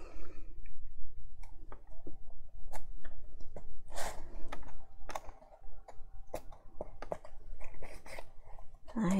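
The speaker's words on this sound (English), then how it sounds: "I'm gonna manually cut some side panels out of the same patterned paper" Crisp snipping and clicking of scissors cutting patterned paper side panels, irregular cuts close by with light rustling between them.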